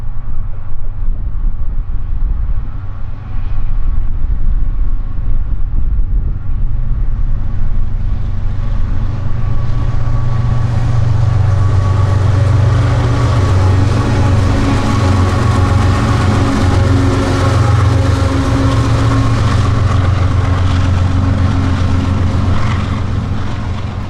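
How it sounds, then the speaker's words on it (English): A freight train led by two GE ES44ACH locomotives hauls new three-bay phosphate hoppers, the diesel engines giving a heavy, steady drone that swells louder as the train draws near and passes. "The two GE ES44ACH locomotives at the head end are certainly earning their keep with this haul."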